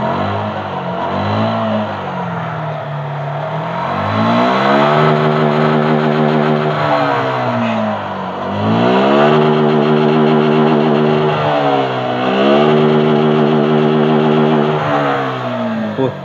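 A motorcycle engine runs nearby in gear, revving up and settling back repeatedly in smooth waves of rising and falling pitch, loud and close with no speech over it.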